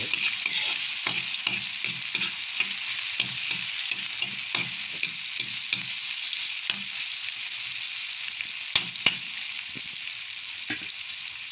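Onion, tomato, ginger and garlic sautéing in a pan for a crab dish, a steady loud sizzle with repeated soft scraping strokes of a spatula early on, then a few sharp clicks, close and continuous without speech.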